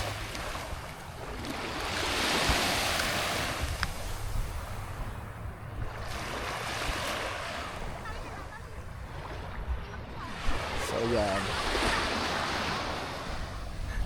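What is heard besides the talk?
seashore with waves and wind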